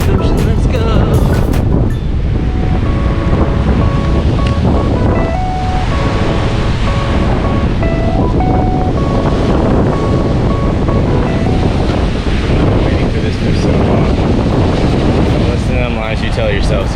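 Atlantic Ocean surf at Assateague Island, loud continuous roar of breaking waves mixed with heavy wind buffeting, steady throughout with faint tonal sounds in the background.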